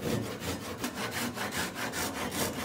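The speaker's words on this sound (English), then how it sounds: "I'm going to do this by taking a 4x4 and cutting it diagonally and then screwing that into the corners" A 4x4 wood post is sawn diagonally with a hand saw, giving a close, steady run of rasping strokes in an even back-and-forth rhythm, about five per second.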